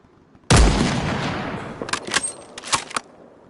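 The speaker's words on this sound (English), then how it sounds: "I'm gonna waste every bullet." DayZ gunfire as every bullet is emptied, one loud close shot followed by a ragged string of quicker shots that trail off toward the end.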